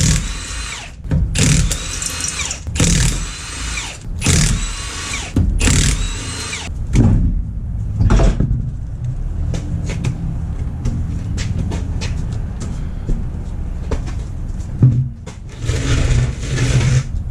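Power tool, an impact-style drill, spinning lug nuts off the stock wheels of a Scion FR-S undergoing brake work: loud repeated bursts of a few seconds each early on, then quieter clanks and handling noises with a few shorter bursts later.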